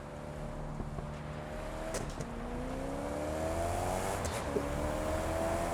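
A Koenigsegg CC850 in TDU Solar Crown pulls away in first gear, its engine droning steadily and climbing in pitch through a couple of gear changes, moderately loud and without talk.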